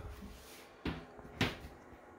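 Two sharp knocks from a big old wooden cabinet door in a tiny home, spaced about half a second apart over a quiet room background.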